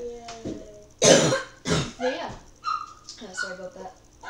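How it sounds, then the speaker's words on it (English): A cough from a player in a Minecraft PS3 session, a couple of loud harsh bursts mid-clip amid other voice sounds and game noises. "Sorry, I just coughed on you."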